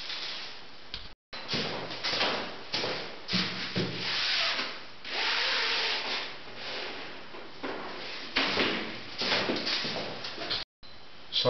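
A wooden handrail being cut to trim it to width during a unit renovation, with close, steady rasping strokes that run almost continuously and pause only briefly twice.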